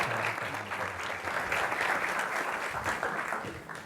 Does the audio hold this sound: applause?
yes